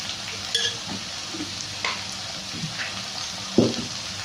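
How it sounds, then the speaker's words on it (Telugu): Potatoes frying in a pan for potato coconut curry with asafoetida and fenugreek powder, a steady low sizzle with occasional scraping stirs and one louder utensil knock near the end. "ఇప్పుడు మనం అంతా మిక్స్ చేస్తున్నాం ఫార్టీ పర్సెంట్ మనకి ఆలు ఫ్రై అయిన తర్వాత"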